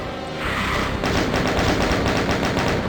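Rapid bullet weapon fire from Doom II's Eviternity megawad, map 32 Anagnorisis, a steady stream of close, loud repeating shots running continuously from about half a second in to the end.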